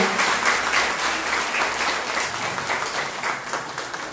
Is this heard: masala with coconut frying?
no